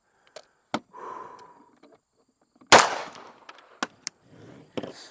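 A single sharp, loud pistol shot rings out on a range while a red dot sight is zeroed on a 5-inch Romulus, and a few fainter clicks and handling knocks come before and after it.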